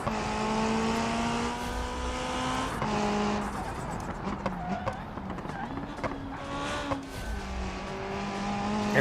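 A race car in BeamNG revving hard through its gears, engine pitch climbing and dropping with shifts and occasional tire squeal, while a person talks over it.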